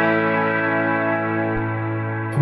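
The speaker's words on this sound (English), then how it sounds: "hearing that big spacious reverb." A guitar note through an HX Stomp swells into a big, spacious reverb tail, with sustained harmonics ringing steadily and evenly for a couple of seconds before a faint new attack arrives at the very end.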